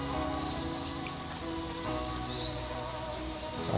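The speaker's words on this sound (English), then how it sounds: "I think the rain might be slightly letting up a little bit." Steady rain patters down in the very early morning, a dense, even hiss of drops on surfaces with faint bird chirps barely poking through, no one speaking.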